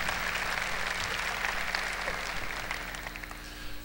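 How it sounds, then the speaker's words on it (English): An audience at a graduate school commencement ceremony for the College of Charleston applauds, a broad wash of many hands clapping that holds steady before thinning slightly at the end. "thank you for the applause"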